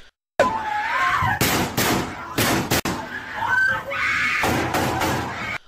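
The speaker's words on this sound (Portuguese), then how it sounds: "Vídeos gravados por alunos do colégio no momento do ataque mostram um pânico com os tiros disparados." Gunshots ring out inside a high school during a shooting attack: a series of sharp, loud bangs, some close together, mixed with frightened screaming and panicked voices throughout.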